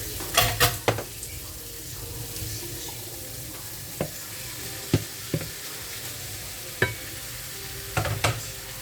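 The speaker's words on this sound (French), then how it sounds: "et là je mélange, et là on va fermer, on va laisser griller les haricots" Green beans frying in oil in a pan, a steady soft sizzle under occasional clinks and scrapes of a utensil stirring, with a louder cluster of knocks at the start and end.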